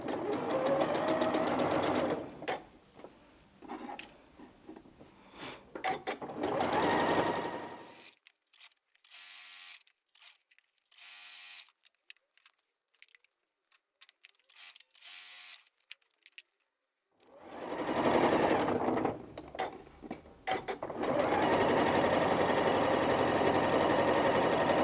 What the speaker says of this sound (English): I'm going to take that to the machine, do a 1/4 inch all the way down